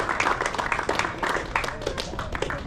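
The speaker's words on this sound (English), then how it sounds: "Please, a big round of applause" A round of applause for a sponsor at a charity cricket event, with many hands clapping in a dense, uneven patter at moderate distance, fairly quiet and with no talk over it.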